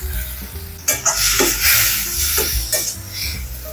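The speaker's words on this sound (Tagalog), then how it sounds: "Isasangag lang natin ang ating hipon. Gisahin lang natin hanggang sa maluto." Shrimp sautéing in a little oil in a pan, loud sizzling bursts with stirring scrapes and clinks of a utensil against the pan, swelling and easing in rhythm, close up with no talk.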